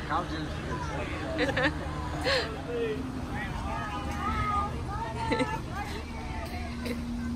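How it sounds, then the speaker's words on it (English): A loud fan whirs steadily behind a group of people talking outdoors, its constant drone sitting under several voices and background chatter throughout. "I hope that y'all can hear that fan behind us is loud"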